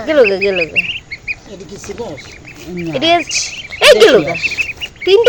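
Native ducklings bought at a market quack repeatedly in bursts, close and loud, mixed with people talking nearby.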